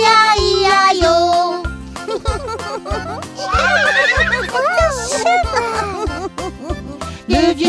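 A horse whinny, with a rising and falling neigh in the middle, rings out over a bouncy French Old MacDonald farm song with steady beat and backing music.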